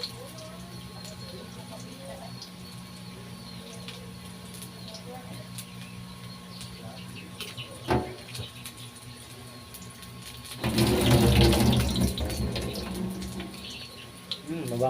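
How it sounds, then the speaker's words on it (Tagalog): Shrimp being washed under a running kitchen tap, with a low trickle of water that swells into a louder gush near the end, close by, under quiet background talk. "Hugasan ko yung hipon."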